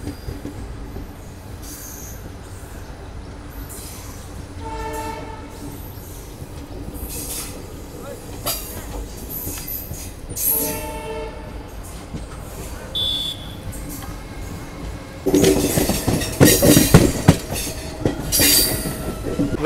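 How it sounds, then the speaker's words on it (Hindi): The horn of the Barmer Mathura Express sounds twice as short, fairly distant blasts over the rumble and clatter of the moving train, with voices nearby and louder wheel and carriage noise near the end. "ये देखो हॉन्किंग हो गई है।"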